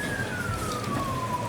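A single emergency vehicle siren in Estonia, police or ambulance, holds one steady, slowly falling tone over passing road traffic. It sounds at moderate distance for the whole moment, with no talk over it.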